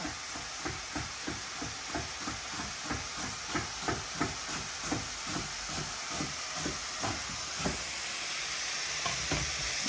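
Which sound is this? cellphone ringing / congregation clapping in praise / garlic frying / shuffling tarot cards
garlic frying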